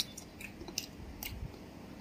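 Close, soft chewing of a Thai dish, koi or soi ju raw beef, while it is being tasted, with faint wet munching and small crunchy clicks over a low background hum.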